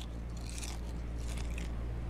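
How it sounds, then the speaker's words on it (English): Crunchy pizza bitten in a video game, two short crisp crunching bites close up over a low steady background hum. "That's a crunchy pizza."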